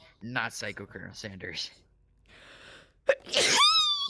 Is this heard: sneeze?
yes